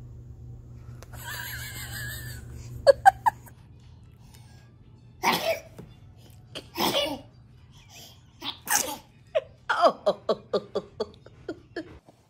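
A baby sneezes repeatedly: a string of short, sharp sneezes close to the microphone, some in quick succession, with small cries and breathy sounds between them over a low steady hum.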